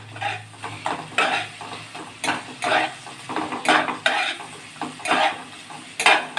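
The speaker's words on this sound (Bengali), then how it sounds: "লাল করে ভাজলাম" Eggs fry in a pan with a soft sizzle under rhythmic scraping strokes of a spoon, repeating about every half second to second, fairly close.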